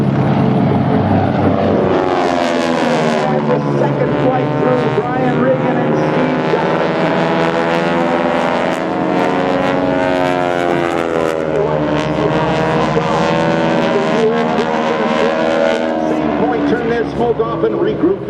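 An aerobatic airplane from an airshow display team roars overhead with a loud, sustained propeller drone that shifts in pitch as it passes, while an announcer talks over it.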